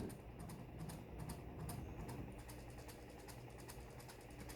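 A small homemade pulse motor running on its first start, giving a faint, rapid, regular ticking like a tiny one-cylinder engine over a soft low hum.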